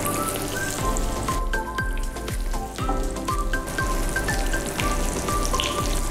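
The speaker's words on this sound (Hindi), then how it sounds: "अब इसे मीडियम आंच पे कर दिया जाए फ्राई।" Falafel patty, a thin tikki, frying in oil over medium heat, giving a steady crackling sizzle with scattered popping spatters throughout, close and continuous with no talk.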